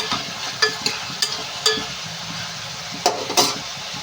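Onions frying in a pan, a low hissing sizzle punctuated by several sharp clinks and scrapes of a utensil stirring against the pan.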